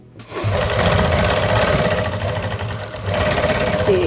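A sewing machine stitching along buckram on a sweetheart neckline garment, running in a fast steady mechanical chatter up close, with a brief slowdown before picking up again, no talking.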